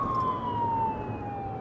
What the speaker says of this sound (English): riding in a squad car with lights and sirens going